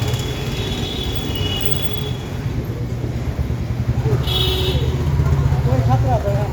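A train rumbles over a rail station above a dark underpass, with a steady low rolling roar and high wheel squeal, while people talk nearby.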